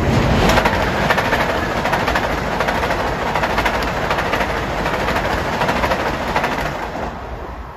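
A Long Island Rail Road train, the Huntington to Grand Central service, rolls past loud and close at Elmont station, a steady rushing roar with rhythmic wheel clatter over the rails that eases slightly near the end.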